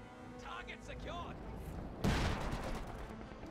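In Company of Heroes 2, a tank fires its 76mm gun with one sharp, heavy report. The blast is close and loud and comes in after about two seconds of quieter battle ambience and a voice.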